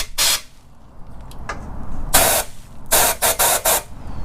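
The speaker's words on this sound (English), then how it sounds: "So what we're going to do is take an air compressor." Compressed air blasting in bursts through a truck frame rail in a garage during a rear bumper install, one long hiss then a rapid series of short sharp blasts, close and loud.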